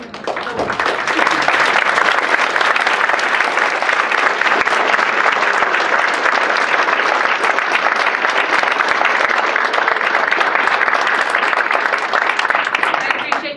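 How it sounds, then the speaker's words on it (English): A large audience at an annual meeting of a public garden friends group claps steadily for grant-recipient organizations, a dense, loud wash of applause sustained for over ten seconds without letup. "I would love for you to just stand up and let us clap for you"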